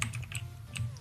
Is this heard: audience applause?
no